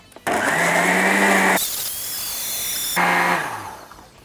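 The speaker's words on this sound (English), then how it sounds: "just give this a blitz in a blender until you have a mixture that is smooth" A blender blending onions whirs loudly in two bursts with a short break between, its high motor whine rising as it spins up and settling as it runs.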